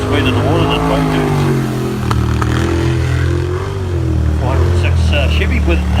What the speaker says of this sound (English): 406 Chevy with 500 horsepower Macraft hull.